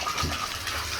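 Water runs from a bathtub shower faucet after a new cartridge is fitted, a steady gushing splash into the tub, close and continuous for the whole moment.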